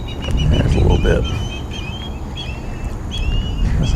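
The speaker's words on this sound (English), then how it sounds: "There's some ospreys over here chirping around." Ospreys chirping around a lake during a bass fishing outing, a series of thin, high repeated calls in short bursts, moderately near, over steady low wind or water rumble and some boat noise.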